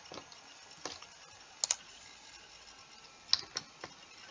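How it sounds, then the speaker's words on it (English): Computer keyboard keys are pressed at a PC while playing Minecraft Java Edition. The key presses come as several sharp, quiet clicks spread apart over a soft background hiss. "Now I have to hit F4 times to fix the glitch again"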